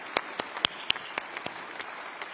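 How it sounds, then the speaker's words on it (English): Scattered, sparse clapping from an audience at a political speaking event: about a dozen separate claps spread unevenly, fairly faint, with no voices over them. "can I just take the liberty of asking everyone to give them a big round of applause"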